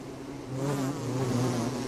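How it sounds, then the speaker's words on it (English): Steady, dense buzzing of bees swarming close by in the game Don't Starve Together, growing slightly louder and continuing without a break. "Hello, bees. Hello. Back over 150. Lots of bees."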